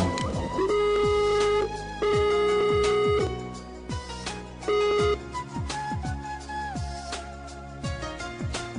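A Skype outgoing call rings, a repeated steady electronic tone pulsing in short bursts, heard alone and fairly loud over a busy melodic background.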